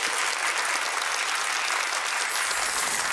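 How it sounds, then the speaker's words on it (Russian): Studio audience applause on a television quiz show, a continuous dense wash of clapping filling the whole stretch at even loudness. "Прошу, пожалуйста, красные кнопки под аплодисменты нашей студии."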